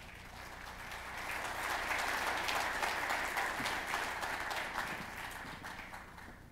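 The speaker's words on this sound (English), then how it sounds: "Please welcome Foreign Minister Park with warm rounds of applause." A conference hall audience welcomes Foreign Minister Park with sustained, even applause that swells to full strength and holds steadily, heard alone without talking, at the opening ceremony of the 2022 Asan Symposium.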